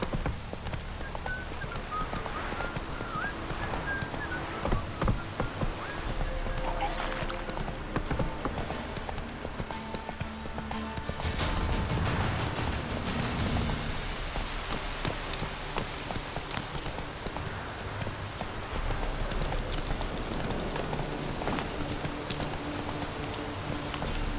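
The horse Roach gallops in The Witcher 3, its hooves pounding in a rapid, steady clip-clop that runs continuously and loudly, with rain falling on the surfaces around it.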